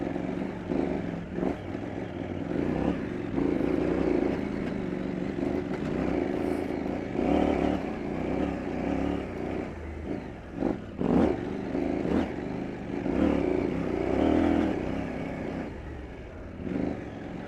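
A KTM 790 Adventure R motorcycle rides off-road on wet ground under steady throttle, a continuous rumbling engine drone with slight surges, heard as if from on board, with no talking.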